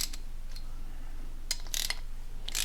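A ratchet tightens intake manifold bolts on a 2022 Honda Grom, giving quiet clusters of quick, close clicks spread over a low steady background hum.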